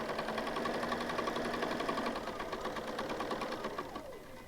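A sewing machine running a quarter-inch seam on quilt pieces, a continuous fast rhythmic whir close by, steady for several seconds and easing slightly toward the end, with no voices.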